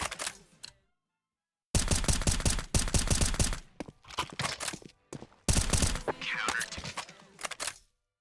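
Shotgun blasts in a video game fire in sharp, heavy bursts separated by brief silences, loud and close with some game clatter between shots.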